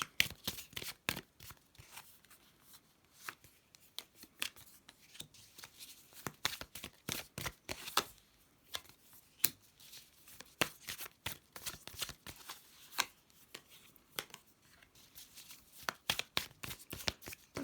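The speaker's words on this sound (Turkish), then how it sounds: "Bir kart daha alacağım." Tarot cards shuffled and drawn by hand, with rapid riffling clicks and soft card slaps repeating in irregular bursts throughout, close and fairly quiet with no talking.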